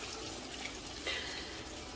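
Water pours steadily into a pot of cooked oxtail on a stovetop. It makes a continuous close-up splashing rush with a brief louder surge partway through.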